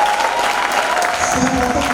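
A church congregation applauding loudly during a Sunday service, dense continuous clapping close up with voices mixed in throughout the crowd.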